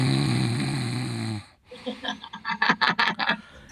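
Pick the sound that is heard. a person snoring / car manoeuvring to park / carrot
a person snoring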